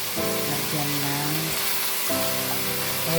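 Chicken pieces frying in a pan for Filipino adobo, a steady, dense sizzle throughout with someone talking over it.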